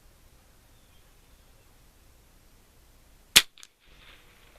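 A single sharp rifle shot at an outdoor range on a windy day, one loud crack followed by a brief echo against faint background hiss.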